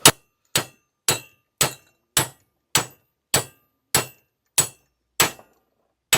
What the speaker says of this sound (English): it changes the sound when you hit it with a hammer